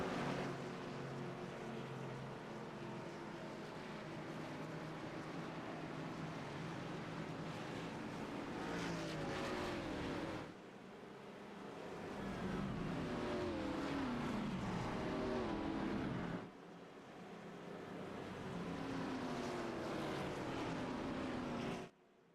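Race cars rolling off on a pace lap at Talladega in an Xfinity Series racing video game, a loud continuous droning engine roar with slight swells and two brief dips.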